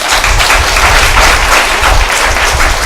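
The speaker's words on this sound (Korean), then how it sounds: "우리 권사님들 박수 좀 한번 쳐드리세요" A church congregation claps for the deaconesses during a Sunday morning service, a loud, full burst of many hands close by that stays strong and even across the whole stretch, with no talking over it.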